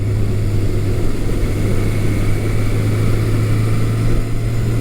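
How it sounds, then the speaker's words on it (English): A 1982 Suzuki GS750E motorcycle, ridden in cold weather before warming up, drones steadily with a loud low engine hum and wind rush at an even pace. "I'm currently riding Suzuki's 1982 GS750E."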